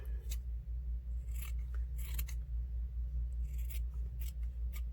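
Scissors cut a small square from white felt, giving a series of close, crisp snipping strokes at an irregular pace over a constant low hum.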